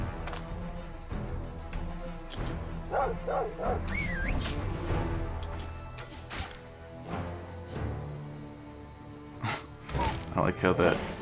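Dogs in the fantasy RPG Stoneshard bark, yip and whimper in short bursts amid thuds of combat, with someone talking over much of the action.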